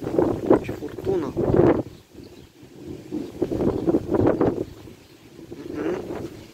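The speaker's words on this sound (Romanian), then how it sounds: "Mamă, strom mare începe." Strong wind of an approaching windstorm with heavy rain near a village, roaring in gusty surges that rise and fall, with people talking over it.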